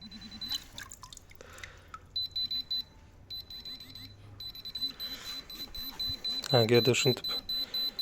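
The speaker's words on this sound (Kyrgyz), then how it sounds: "вибрация звук берип иштеп жатат." A pinpointer metal detector held underwater beside metal sends out steady repeated electronic beeps and a pulsing buzz that grow denser toward the end. Someone talks over it.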